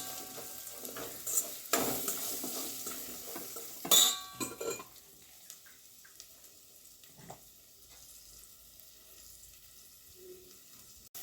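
Onions and curry leaves sauté in a pan for sambar, with a few loud metal stirring clanks early on, then a soft sizzle fading to near quiet, no one speaking.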